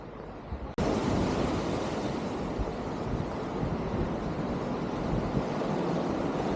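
Steady, loud roar of surf breaking on a rocky beach on Madeira Island, a continuous wash of waves with wind noise, starting abruptly after a brief quieter moment, no voices.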